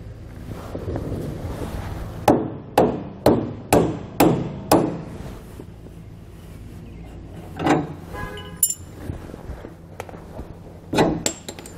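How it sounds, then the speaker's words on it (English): Sharp metallic hammer taps knock bolts out of a trailer equalizer bushing, a quick run of five or six evenly spaced strikes, then a few scattered louder knocks and scrapes, close and distinct over light background noise. "tap them out with the hammer"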